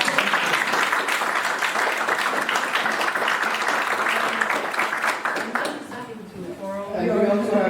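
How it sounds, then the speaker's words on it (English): An audience at a university alumni panel on private equity careers claps for the panelists. The applause is sustained and fairly loud, then thins out as a voice begins speaking near the end. "A big applause to the panelists."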